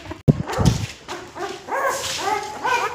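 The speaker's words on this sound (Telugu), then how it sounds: "ఇవి కుక్క పిల్లలు చిన్నవి." Tiny day-old puppies whimper and yip close by, a thin high-pitched run of plaintive cries rising and falling after a couple of sharp knocks at the start.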